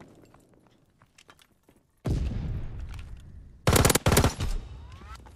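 The ITRA Burst rifle fires in Call of Duty, loud rapid bursts of close gunfire: one long stuttering volley, then a short pause and a second tight cluster of sharp cracks, with faint footsteps and clicks before.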